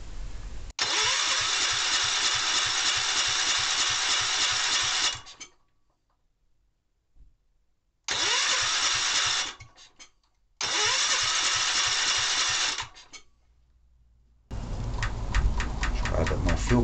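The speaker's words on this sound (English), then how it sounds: "Give it some choke, see what happens with the choke closed." A Kohler K241S single-cylinder engine is push-button started with the choke closed, cranking in three loud bursts of several seconds with short silences between them. A final burst at the end sounds rougher and more uneven.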